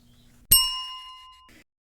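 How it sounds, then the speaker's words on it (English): A single bell-like ding chimes as an alert cue to move on to the next presentation slide, striking sharply and ringing out clearly for about a second before fading, with faint background noise and no speech. "I have also added a bell tone to alert you"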